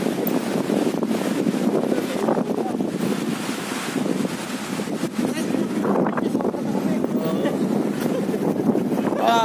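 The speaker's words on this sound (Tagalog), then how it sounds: "Super hangin." Strong wind buffets the microphone on a bike ride outdoors in Taiwan, a steady loud low rumble filling the whole clip with no clear voices over it.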